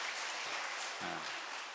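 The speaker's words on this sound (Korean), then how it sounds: "이럴 때 한번 박수 한번 치시면 좋을 것 같은데" A church congregation claps together in a brief, dense burst of applause, steady and fairly loud, filling the room without a break.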